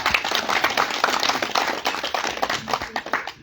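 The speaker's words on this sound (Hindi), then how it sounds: "सभी महापुरुषों की बार तालियां आप लोग बजाइए" A crowd at a political rally in India claps at a speaker's call, brisk hand clapping from many people that swells and thins in waves, sounding close and vigorous throughout.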